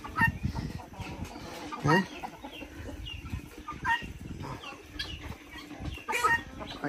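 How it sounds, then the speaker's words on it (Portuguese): Chickens and roosters cluck around a rural Brazilian farm, with repeated close clucks and short bursts rising over steady background activity, and a voice speaks briefly. "toda hora você vê um galo pegando uma galinha aqui"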